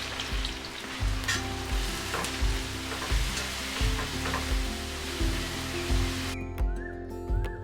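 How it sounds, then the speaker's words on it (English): Chopped onion sautéing in hot oil and a small piece of butter for egg bhurji, a steady close sizzle and frying hiss that runs throughout, with faint stirring scrapes and soft periodic bumps underneath. "Heated some oil and a small piece of butter, then saute chopped onion till it's soft and translucent."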